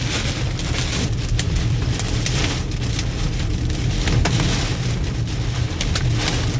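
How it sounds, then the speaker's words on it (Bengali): Heavy rain pounds on a vehicle during a storm while driving through Hemayetpur, Savar, a loud, steady, dense roar with no voices. "ভীষণ ঝড় উঠছে এখন"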